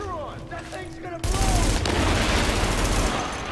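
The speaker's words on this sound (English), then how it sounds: "Gonna throw another grenade when they jump down right now." Grenade blast and heavy gunfire in the video game The Division: a sudden loud explosion about a third of the way in, followed by dense, sustained gunfire that stays loud to the end, with a voice faintly underneath before the blast.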